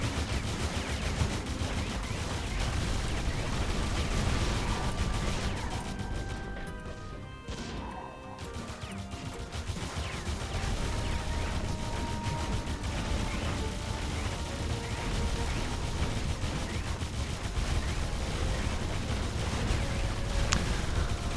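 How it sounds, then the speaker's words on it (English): Turrets fire at enemies in the tower-defense video game Defense Grid 2, a dense, continuous barrage of crashing, gunfire-like blasts that dips briefly midway before resuming at full intensity. "I can jump over here, power these turrets, and they'll do the actual killing"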